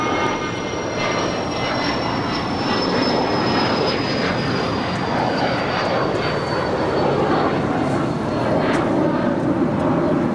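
A Spirit Airlines jet takes off from runway 25 right at Los Angeles International Airport, its engines a loud, sustained roar with a high whine that slowly falls in pitch, continuous for the whole stretch.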